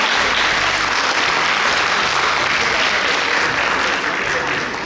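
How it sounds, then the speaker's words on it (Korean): An audience at a Sejong welfare forum applauds to welcome a presenter, thick sustained clapping that stays loud across the whole stretch and fades slightly at the very end. "박사님 박수로 발표를 청해 듣겠습니다. 박수 부탁드립니다."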